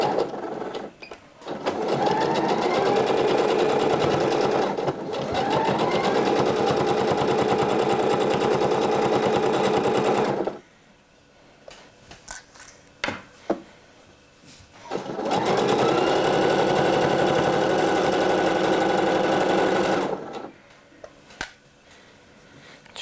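A sewing machine runs in two long bursts while stitching a hem on a sweater, a steady close whirring rattle with a short quieter gap of fabric handling between the runs.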